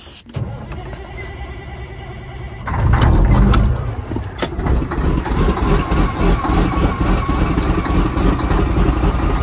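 A vehicle engine starting after a very cold night: a brief cranking burst, then the motor catches and settles into a steady, loud idle heard up close.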